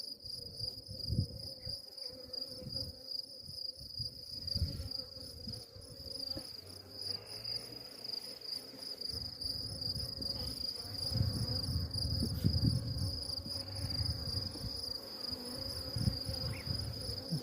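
Honeybees droning at an open hive during an inspection with brood frames and capped honey, a steady insect buzz running under the whole stretch with a louder swell near the end, no talking heard.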